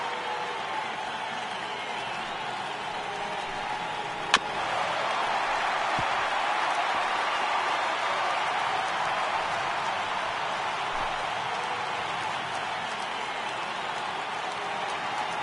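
A stadium crowd of over 39,000 cheers at a Brewers versus Dodgers game in MLB The Show 18, as a steady, even roar that swells slightly after a brief sharp knock and holds throughout.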